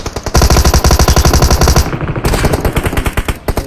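Sustained automatic gunfire in PUBG, loud rapid bursts repeating for several seconds with a brief pause, then another stretch of fast shots with a ringing echo and no talking.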